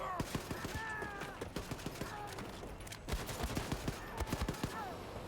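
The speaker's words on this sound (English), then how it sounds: "Basically, we're just gonna shoot these Nazis up." Rapid bursts of gunfire as Nazis are shot in Wolfenstein II: The New Colossus, sharp repeated cracks in quick uneven clusters over steady game ambience, with a few tonal in-game effects between volleys.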